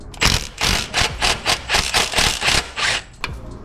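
A 14mm bolt on a Daihatsu Hijet is loosened with a hand ratchet, giving about a dozen quick, close rasping strokes in a steady back-and-forth rhythm, with a short pause near the end.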